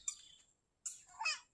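A bird by a village pond gives short, high chirping calls, one brief note followed by a pause and then a quicker fluttering burst, close and fairly faint with no talking.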